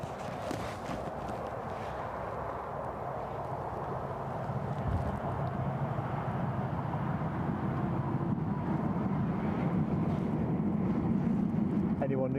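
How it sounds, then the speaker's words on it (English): A metro train runs along the line behind Newcastle airport, a steady, dense rumble that builds gradually and fills the scene from a moderate distance, with wind noise and no clear words. "That is the train line, metro line that runs behind my position."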